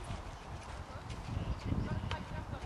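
Horse hooves thud and clop on an arena surface during a national amateur show jumping round, fairly near and mixed with a commentator's voice and crowd murmur.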